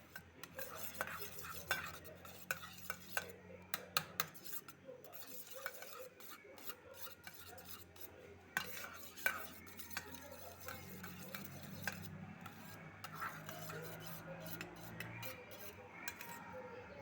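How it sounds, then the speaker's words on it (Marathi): Omelette mixture being stirred in a bowl, a long run of rapid scraping and tapping strokes with an uneven rhythm, close and fairly quiet. "हलवून घेतो मी."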